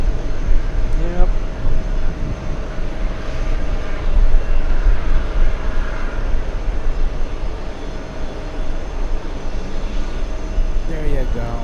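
Continuous jet engine roar of a Delta airliner arriving from the Dominican Republic, a loud broad rumble that holds steady throughout the stretch, with someone talking over it.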